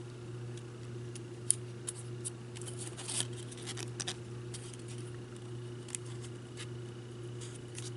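Quiet, scattered snips and soft crisp clicks of scissors cutting paper over a steady low hum, with no talking.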